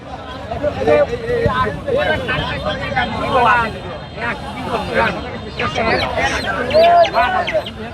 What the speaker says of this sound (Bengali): ডালায় করে মুরগি নিয়ে আসছে